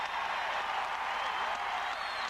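Crowd cheering and applauding at the 1988 NCAA Men's Gymnastics Championships after a routine, a steady dense wash of clapping filling the arena without pause.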